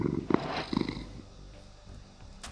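A cat in the video game Minecraft purrs with a rough, pulsing rumble in a few quick bursts during the first second, then fades to quiet low background.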